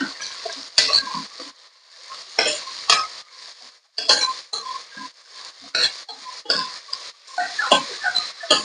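Ginger garlic paste with curry leaves being stirred in a pan for mushroom curry, a spoon scraping and clinking against the pan in bursts with quiet gaps between strokes.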